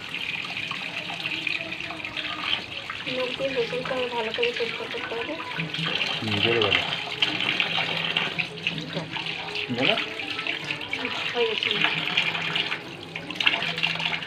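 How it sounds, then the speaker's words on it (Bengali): Tap water runs steadily into a sink while fish is washed by hand, a continuous splashing gush with small clinks and handling noises, and a person speaks briefly over it. "হয়ে গেছে মাছ ধোয়া?"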